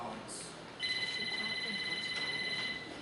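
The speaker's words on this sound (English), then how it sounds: "Okay, whose phone is that?" A mobile phone rings in an indoor space with steady, repeating electronic ringtone tones, fairly faint and continuous for a couple of seconds over a low room murmur.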